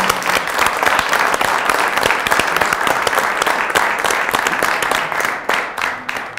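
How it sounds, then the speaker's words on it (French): Audience applause at a talk on artificial intelligence and politics, a dense, steady wash of clapping that thins out and fades in the final second. "Je crois qu'on peut vous applaudir."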